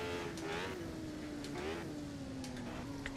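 An F1 car lapping the Goodwood circuit, its engine a high, tonal whine that swells and dips with gear changes and throttle, heard steadily from on board at moderate volume.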